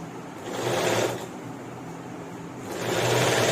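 Sewing machine stitching the bottom hem of a dhoti, a steady mechanical whirr that swells twice in short running bursts with a brief lull between.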